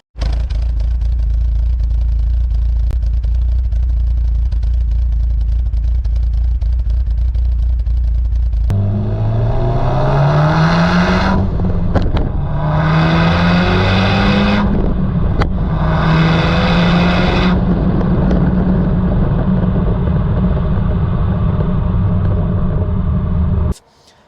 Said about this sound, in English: it's also got upgraded cams, so it gives it a bit of a lumpy idle